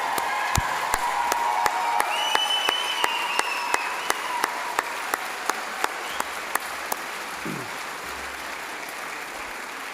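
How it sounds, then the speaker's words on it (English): A graduation ceremony audience applauds steadily and loudly in a large hall, a dense wash of clapping with a few whistles and whoops rising over it for the full stretch. "how about you give this lot a round of applause for helping you get there?"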